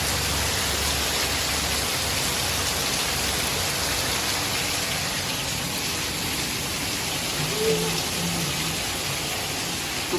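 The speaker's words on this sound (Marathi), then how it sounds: "बाहेर खूप पाऊस आहे खूप म्हणजे खूप पाऊस आहे आज" Heavy monsoon rain falling outside, a dense, steady hiss of downpour holding evenly throughout at moderate loudness with no talking over it.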